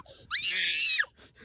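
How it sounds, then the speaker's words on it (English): A young boy, aged three or seven, lets out a single shrill, sustained scream lasting about a second, loud and close, with brief quieter sounds after it. "Stop screaming."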